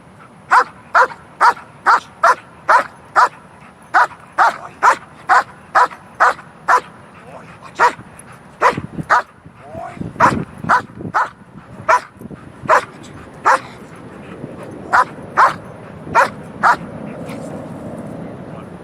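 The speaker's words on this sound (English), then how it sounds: "he barks like crazy at this ball" A German Shepherd barks at a ball in a fast, steady series of sharp, loud barks, about two per second, with a brief scuffle and softer whimpering sounds partway through.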